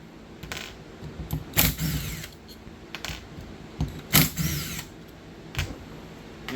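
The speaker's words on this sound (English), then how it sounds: "we're going to take all of the bolts out except for that yellow one" A power tool runs in short bursts, loosening bolts on a Gen 3 Hemi engine during a camshaft phaser limiter install, with several brief whirring spurts separated by quieter gaps and light clinks of tools.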